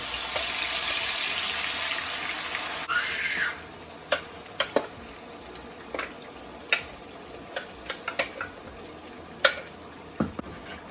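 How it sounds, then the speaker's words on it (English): Peanut butter mixture hits hot oil in a cassava leaf dish with a loud burst of sizzling, then settles into a steady frying hiss broken by scattered sharp pops and crackles, with no voices. "So now we're going to put that mixture in the oil."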